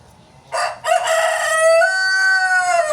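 A sick chicken suffering from a vent ailment lets out a loud, drawn-out harmonic call lasting over two seconds, close by, opening with a rougher burst and holding steady without any talk.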